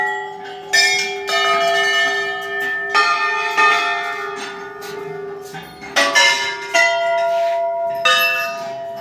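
Bells ring at the Golu Devta temple in Uttarakhand, struck repeatedly in an irregular series of bright, loud clangs whose tones linger and overlap between strikes.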